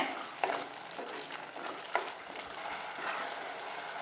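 Prawn pepper fry with coriander leaves and curry leaves being stirred in a pan, a soft continuous sizzle broken by a few sharp scraping clicks of the spoon.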